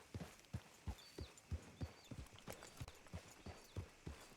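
Horse hooves clip-clop at a steady walking pace in Red Dead Redemption 2, a dozen or so evenly spaced, fairly close thuds over a soft ambient background.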